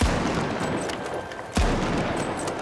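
Sniper rifle shots in a video game, two sharp, loud reports about a second and a half apart over a steady bed of game noise.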